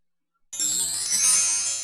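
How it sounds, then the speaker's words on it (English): A PowerPoint 2007 chime slide transition sound effect rings out after a short silence, a bright sustained tinkling tone that holds steadily to the end. "So if I go down and I choose chime, which sounds pretty nice"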